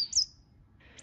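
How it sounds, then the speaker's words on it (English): Coal tit song: a brief bright chirp near the start followed by a faint second note toward the end, thin and high against a quiet background. "Coal tit."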